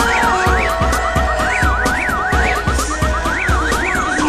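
A rising and falling alarm siren wails repeatedly over a pounding bass beat in a Brazilian funk track.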